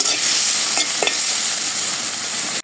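Greens (shak) cook in a pan on a stove with a steady, close hiss of frying that runs unbroken. A few soft stirring scrapes sit on top, and no one speaks.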